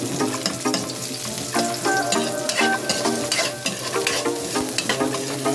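Onion fries in hot oil in a pan, crackling and sizzling while a utensil stirs and scrapes in repeated strokes, close and continuous.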